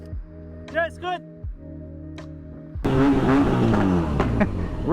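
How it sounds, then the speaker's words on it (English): A cold motorcycle engine idles steadily, then bursts into loud, rough revving for the last couple of seconds, with a voice speaking briefly near the start. "Rev that cold engine, baby."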